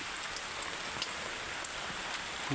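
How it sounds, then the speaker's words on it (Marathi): Steady rain falls outdoors near farm fields, a dense continuous hiss of drops with occasional sharper taps on nearby surfaces, with no voices. "आता पाऊस आलाय."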